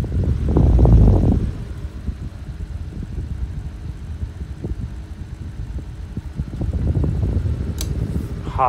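A 1920s GEC Freezor 16-inch desk fan runs with a low, steady motor hum and airy whoosh, close by, with louder buffeting bursts near the start and end.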